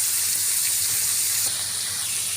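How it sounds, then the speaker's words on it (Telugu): Green chillies and onions frying in hot oil with chana dal and curry leaves for South Indian borugula upma: a constant close hiss of sizzling oil runs throughout, steady and loud with no talking. "ఇప్పుడు పచ్చిమిర్చి, ఆనియన్స్ వేసి దోరగా వేయించుకోండి."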